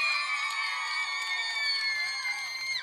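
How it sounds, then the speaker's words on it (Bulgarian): A crowd cheering and shouting with high-pitched whoops for a contestant from Kavarna at a Bulgarian folk dance competition, a sustained loud chorus of voices with scattered claps through it, lasting the whole moment. "аплодисментите за Каварненката"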